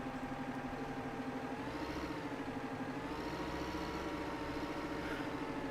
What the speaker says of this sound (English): These tractors they always had their own sounds, but now they sound different than they did before.